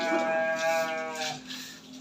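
A jumbo Garut cow lows in a cowshed, one long harmonic moo lasting over a second at moderate distance over steady barn background noise.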